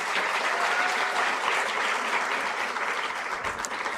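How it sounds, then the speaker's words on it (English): An audience at a university public lecture applauds a guest, a broad, even wash of clapping filling the whole stretch without pause. "Please give him a round of applause and welcome."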